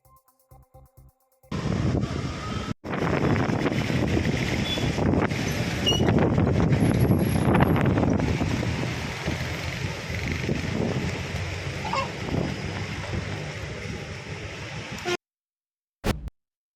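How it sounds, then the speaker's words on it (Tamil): Strong gusty wind ahead of rain roars in a broad, rushing wash, swelling and easing with the gusts and cutting out abruptly near the end, loud and close against the microphone. "மழைக்கு முன்னதாக பலத்த சூறைக்காற்று வீசியதால் வாகன ஓட்டிகள் அவதியடைந்தனர்."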